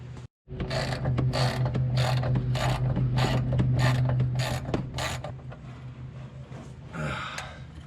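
A ratchet tightens bumper bolts on a 2002 Ford Ranger after a front-end collision, giving a close, rapid series of about ten rhythmic clicking strokes, then slowing to a couple of isolated clicks.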